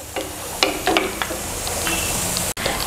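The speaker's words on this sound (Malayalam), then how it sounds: "ഈ സമയത്ത് നമുക്ക് തേങ്ങ ഇങ്ങ് വാരിയെടുക്കണം, അല്ലെങ്കിൽ തേങ്ങ മുഴുവനും അങ്ങ് കരിഞ്ഞു പോകും" Grated coconut fries in hot oil and is scooped out of the pan. A close, steady sizzle runs throughout, broken by a few sharp scraping clicks from the spoon, with no talking.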